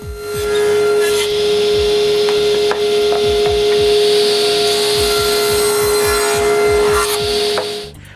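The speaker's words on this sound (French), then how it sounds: "Puis je coupe toute la planche de cerisier à cette longueur-là." Cherry wood board being cut to length by a power tool, a steady loud whine with a constant hum and a rapid run of low repeated thumps throughout, close and continuous.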